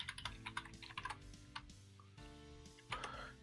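Code is typed on a computer keyboard in quick, uneven bursts of close key taps with a few pauses, quiet overall, ending in a louder cluster of strokes.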